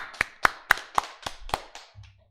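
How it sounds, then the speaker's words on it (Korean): Congregation clapping during a Full Gospel church Sunday service, heard as about six sharp, evenly spaced claps that fade toward the end. "세상에 여러분 박수 쳐야 될 일입니다."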